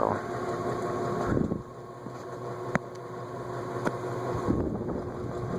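A steady mechanical whir and hum of an antique Emerson 30-inch six-blade Fernleaf ceiling fan running, with faint clicks and rattles over the continuous drone.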